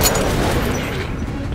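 In the video game Metro Last Light, a shotgun fires a loud, close, booming blast that rings out and decays over a second or so, with no talk over it.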